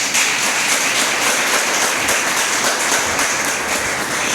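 A church congregation applauding together after a sermon, dense sustained clapping filling the room at steady loudness with no speech over it.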